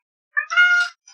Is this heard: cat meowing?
yes